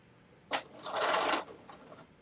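Home sewing machine stitching a bucket hat over tiny pins, a short whirring run with a brief start burst, then a louder sustained hum of about half a second, heard close and alone.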